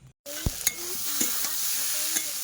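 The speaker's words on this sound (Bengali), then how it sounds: "এই যে এদিকে সবিন আলু একসাথে কষাই করছি" Potatoes being stir-fried in a pan, with steady soft sizzling and a few sharp clinks and scrapes of a spatula against the metal after a brief silent gap at the start.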